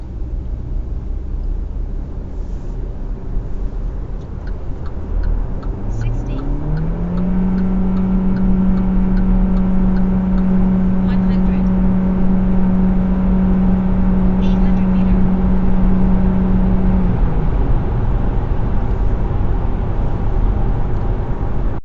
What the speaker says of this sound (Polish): podczas gwałtownego przyspieszania silnik spalinowy wchodzi na bardzo wysokie obroty